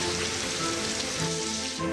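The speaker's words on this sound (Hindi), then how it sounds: "बारिश का हाल" Steady rain falling, a dense even hiss of drops on surfaces, close and unbroken for a couple of seconds with no voices.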